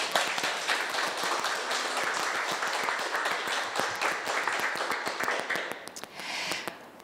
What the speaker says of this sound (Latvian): par to vien viņas jau ir pelnījušas aplausus